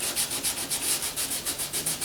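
Filler on a Ford Flex bumper cover being hand-sanded in short back-and-forth strokes, a steady rhythmic scratchy rasp repeating about five times a second, close and alone.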